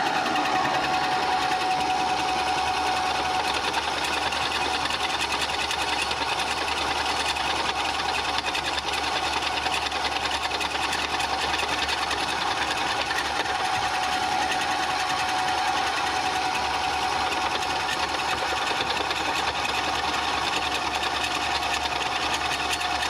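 A rock crusher grinds gold ore on a second pass, giving a steady, loud mechanical churning and rattling drone with a faint hum. It runs unbroken and close the whole time, with no talk.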